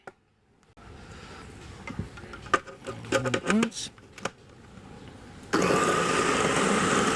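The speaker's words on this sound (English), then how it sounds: "And we'll just blend it all up" Countertop blender whirring up to full speed on chopped peppers for a summer dish at a market cooking demonstration, starting abruptly after some clattering handling and voices, then a loud steady roar.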